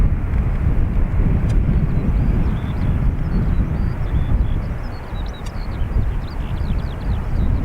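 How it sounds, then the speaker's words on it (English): A Finnair Airbus A320 takes off from Dublin Airport bound for Helsinki, a heavy low rumbling roar that stays loud and continuous, mixed with gusty wind buffeting and a few faint bird chirps. "So our A320 Finnair is off to Helsinki"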